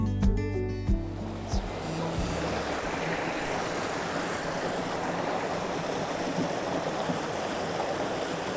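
A small river rushing through Lydford Gorge in Devon, a continuous loud broadband roar of flowing water, with brief wind buffeting and low rumbles at the start.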